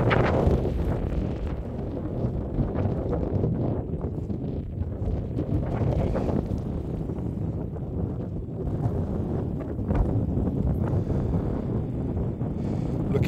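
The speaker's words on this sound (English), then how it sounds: "Windy, but nice." Strong wind buffets the microphone continuously on a walk through a nature reserve near Rye, East Sussex, a loud rumbling roar with gusty swells and no voices.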